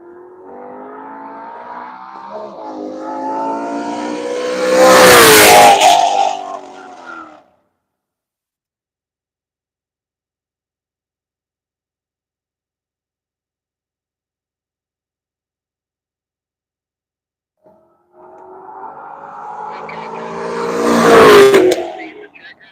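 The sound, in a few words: race car approaching and passing on a track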